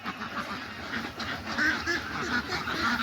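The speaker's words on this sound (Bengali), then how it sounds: "এই হাঁসগুলা কার?" A flock of ducks on a duck farm beside a pond keeps up a continuous chorus of honking quacks at mid distance, with some calls standing out over the general clamor.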